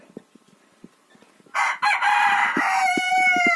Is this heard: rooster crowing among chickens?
yes